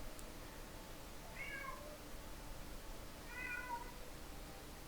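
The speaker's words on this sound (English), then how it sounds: "If you hear my cat in the background, I do apologize." A house cat meows twice in the background, faint and brief, with a pause between the two calls over a steady low hum, no speech.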